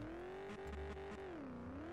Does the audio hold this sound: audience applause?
no